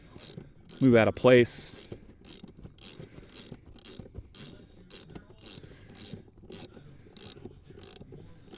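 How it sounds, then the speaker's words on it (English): A wrench or ratchet clicks in rapid, evenly spaced ticks while a bolt is tightened on an antenna mount base on a Ford F-150, with a brief spoken remark early on. "So now we're just gonna tighten up the rest of the bolt."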